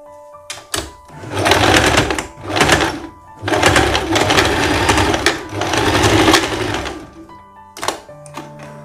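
A sewing machine stitches a summer dress, running in several loud, close bursts of rapid mechanical whirring with short pauses between them.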